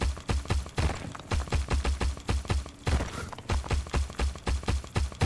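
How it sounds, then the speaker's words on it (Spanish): A machine gun fires in the video game Dome Keeper, a rapid, rhythmic series of punchy thumping shots repeating steadily throughout at close range with little else around. "Es ametralladora, ¿no?"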